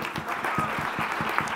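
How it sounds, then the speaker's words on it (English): Applause from a conference audience at a smoking-care presentation session, a brief burst of clapping with individual claps distinct in a loose rhythm, fairly close and moderate in level. "a clap to both of them for doing the judging"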